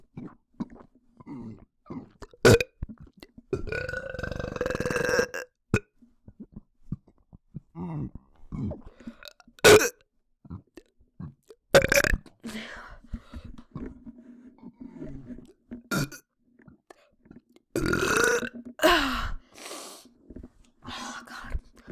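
A person burps repeatedly in a home bathtub: several loud, close, throaty bursts of varying length, separated by quiet gaps and small shuffling sounds.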